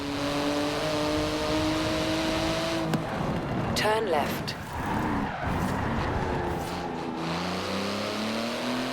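A 3.8-litre twin-turbo flat-six sports car of 700 horsepower, in carbon fibre, revs hard in Forza Horizon 4, engine tone climbing and dropping through gear changes with a tyre skid midway, under a brief navigation voice and talk.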